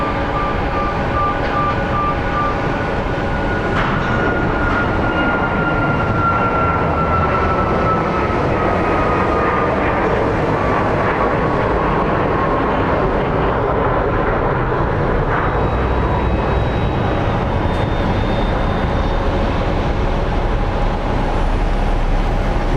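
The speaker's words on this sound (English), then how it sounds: "let's film this quick takeoff." Jet airliner taking off at Phoenix Sky Harbor International Airport: a loud, continuous engine roar with a broad rumble and whining tones that slowly shift in pitch as the plane powers down the runway.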